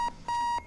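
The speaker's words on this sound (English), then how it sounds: "You can hit the snooze button on the alarm." Alarm clock beeping in the VR bomb-defusal game Keep Talking and Nobody Explodes: a short beep, a pause, then a longer sustained electronic tone, loud and clear with no talk over it.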